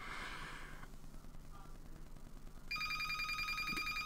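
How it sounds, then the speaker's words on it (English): A telephone starts ringing partway through with a bright, steady electronic ring tone that continues to the end, after a quieter, muffled stretch with no talking. "And now the phone's ringing."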